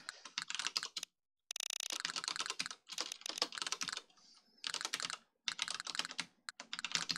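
Rapid typing on a computer keyboard during an osu! livestream, with close, crisp clusters of key clacks in quick bursts and brief pauses between runs, with no talking.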